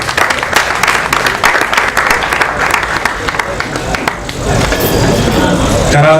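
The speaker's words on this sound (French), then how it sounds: "Mariam, applaudissez s'il vous plaît pour Mariam." An audience at a slam poetry show claps and applauds, a dense patter of hands that swells louder toward the end.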